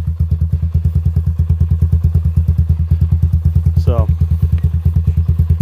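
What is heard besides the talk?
1985 Honda ATC 200X three-wheeler engine idling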